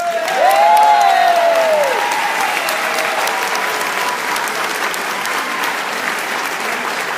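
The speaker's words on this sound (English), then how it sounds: "That's a applause line." Loud audience applause fills a town hall meeting with a US senator, sustained and steady throughout, with a brief whistle-like tone near the start.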